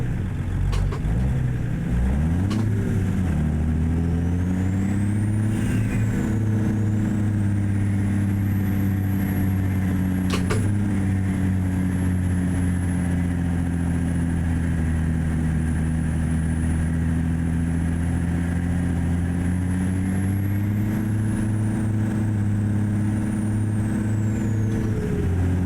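A heavy truck hauling a triple logging trailer in American Truck Simulator slows and downshifts, its deep engine drone steady and loud throughout, with pitch shifts as gears change and a brief hiss of air brakes.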